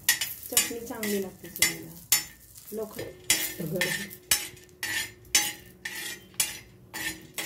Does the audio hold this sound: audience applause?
no